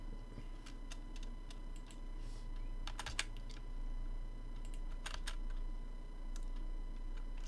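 Mouse clicks at a computer while debug logs are handled, a sparse run of quiet, sharp clicks, some doubled, over a steady low room hum and fan noise.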